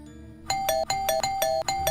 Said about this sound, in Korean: 그 띵동 하는 그 초인종 소리가